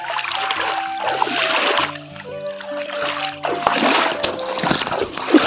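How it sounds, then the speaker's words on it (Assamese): A wooden country boat pushed by hand through water in rural Assam, with irregular splashing and sloshing near the hull, swelling and fading in two long bursts of wash. "মই ভালদৰে নাও চলাব নাজানো সেইকাৰণে নাওখন ঠেলি লৈ পৰিছোঁ"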